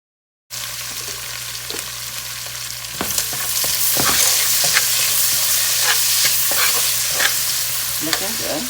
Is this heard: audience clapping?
no